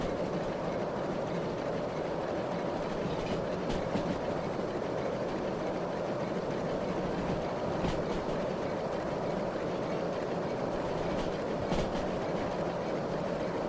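Steam locomotive hauling a train uphill in Derail Valley, a continuous dense rumble and chuffing roar with rail clatter and occasional clanks, steady and loud throughout.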